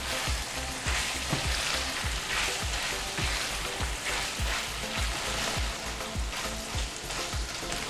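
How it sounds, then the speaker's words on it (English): Green pepper and onion sauté in a pan, giving a steady, close sizzle with frequent stirring scrapes, and no voices over it. "We're gonna saute this for about 5 minutes or until the vegetable is softened."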